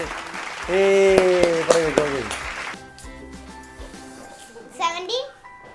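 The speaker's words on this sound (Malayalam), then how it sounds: "ക്ലാപ്പ് പിടിച്ചേ." Applause from a group of children during a cash-prize number-guessing game, a loud burst of clapping in the first seconds over high excited voices, then fading under background music and chatter.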